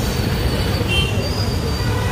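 A train at Panvel railway station sends out a dense, loud rumble with a faint high squeal riding on top, the sound of a busy, crowded platform.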